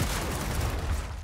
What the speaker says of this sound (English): go ahead and spend the rounds from your boom shot